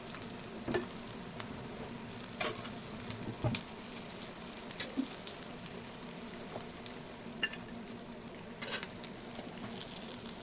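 Potato chops (aloo chop) fry in hot oil with a constant soft crackling sizzle, broken by a few sharp pops and clicks of a utensil, close up and with no talking.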